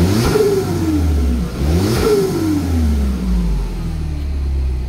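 A built Mini Cooper R58 JCW turbocharged engine revs up twice in quick succession, each rise falling away with a soft whoosh from the diverter valve, loud and close.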